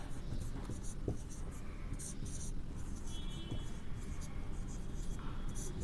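Chalk or marker writes on a classroom board during a geography lesson on the atmosphere, giving a steady, soft scratching of strokes and short taps that runs throughout over a faint background hiss.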